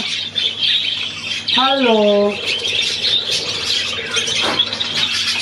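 A pet budgerigar lets out a sharp, ringing squawk followed by softer chirps indoors, while a person talks to it nearby.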